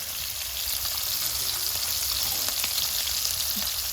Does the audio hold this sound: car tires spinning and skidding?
no